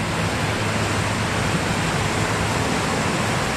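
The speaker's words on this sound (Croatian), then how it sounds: "Ovaj potok." Rushing mountain stream water in Partnach Gorge near Garmisch-Partenkirchen, a dense, steady roar of churning flow, loud and close with no voices.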